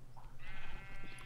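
Sheep in a video game bleat loudly and repeatedly at close range, with wavering nasal calls over a steady low background hum and no talking.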